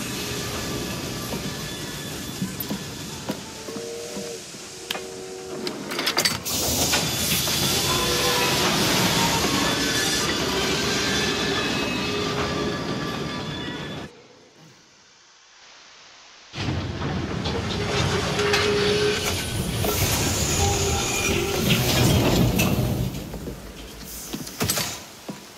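A steam locomotive getting up steam in Assassin's Creed Syndicate: loud, sustained rumbling and hissing mechanical noise that cuts out briefly into near-silence, then resumes just as loud.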